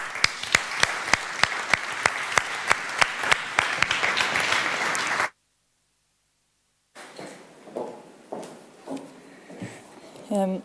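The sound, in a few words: audience applause for the speaker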